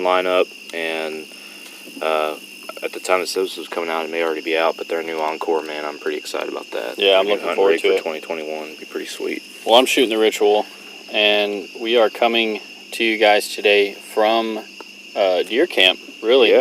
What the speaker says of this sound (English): I don't know if y'all can hear the crickets in the background